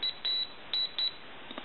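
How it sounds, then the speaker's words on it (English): High-pitched multimeter continuity beeps while probing the circuit pads of an AT&T Speakerphone 5500 cordless telephone under repair, four short steady tones close together, alone in a quiet room. "You might be able to hear the high-pitched little beep that it throws out while I'm checking these."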